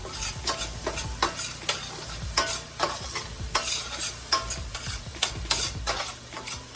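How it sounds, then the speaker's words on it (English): Jalapeños and a splash of jalapeño juice sizzle in a hot pan with walnut and cauliflower taco filling, a steady frying hiss broken by repeated scraping stirs, close and moderately loud with no talking. "Now we're going to add the jalapenos and a little jalapeno juice."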